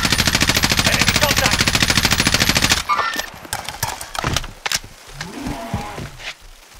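Sustained rapid automatic gunfire in a video game, loud and close, runs for about three seconds. Scattered single shots and game sounds follow, and a voice speaks briefly toward the end.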